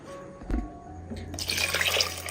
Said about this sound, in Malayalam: ഇനി ജാറ് കഴുകി ആവശ്യത്തിനുള്ള വെള്ളവും കൂടി ഒഴിച്ചു കൊടുക്കാം.